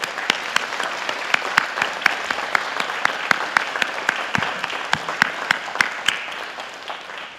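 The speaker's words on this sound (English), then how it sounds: "Everyone, please applaud them." Applause from an audience at a police awards ceremony in a community church, steady clapping with several sharp, prominent claps standing out up close, fading slightly toward the end.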